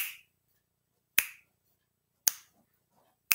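Four sharp, isolated finger snaps about a second apart, crisp and close with silence between, used to mimic a female cicada's call.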